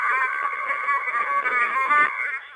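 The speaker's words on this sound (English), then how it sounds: "this is the sound of 40 meters at the moment." FT8 digital-mode signals received on the 40 meter amateur band: a steady, continuous chorus of many overlapping pure tones stacked together, holding evenly throughout with no talking.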